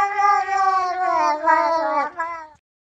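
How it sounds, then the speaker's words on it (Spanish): A cat gives one long, drawn-out meow that rises and falls in pitch like speech, loud and close, then stops abruptly. "el gato que habla mamá"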